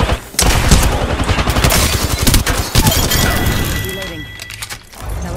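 Rapid gunfire in the battle royale game Apex Legends, with dense bursts of shots and impacts crackling loudly and near for several seconds, over a busy clatter of effects.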